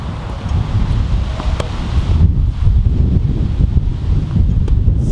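Gusty wind buffets the microphone on an outdoor court, a low, rumbling roar that rises and falls throughout, with faint rustling in the background.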